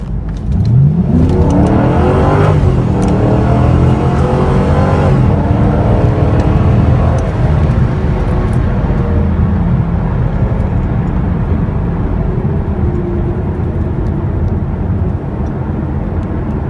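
A 2009 Ford Mustang GT accelerating hard on a roll run, the V8 engine roaring loud and close as revs climb through the gears, then settling into a steady high drone.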